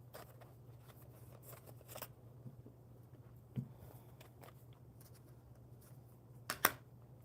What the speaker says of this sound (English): I'm shuffling these cards for you, my friend.